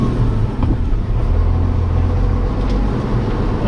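A 1991 Hino FS truck engine, about 220 horsepower, drones steadily and low from inside the cab on an old-school test drive, with a constant rumble that holds even throughout.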